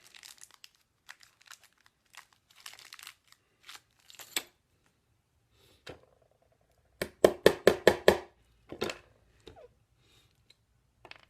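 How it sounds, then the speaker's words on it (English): Lead came for leaded window glazing is chopped into small pieces, a burst of sharp, rapid clicks and snaps near the middle amid scattered lighter taps, rustles and handling noises in a quiet room. "When chopping the lead, always come down at a straight angle"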